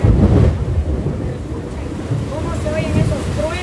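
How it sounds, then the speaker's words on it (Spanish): Heavy rain roars steadily throughout as a dense, broadband wash, with faint tonal sounds rising near the end. "Lloviendo demasiado fuerte"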